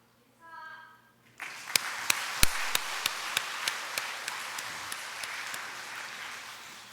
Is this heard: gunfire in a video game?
no